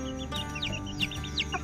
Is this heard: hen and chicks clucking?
yes